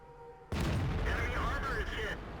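A tank gun fires in World of Tanks on a SEA server match, a sudden loud blast followed by a sustained rumbling roar and engine-like tonal whine lasting about a second and a half before dropping away.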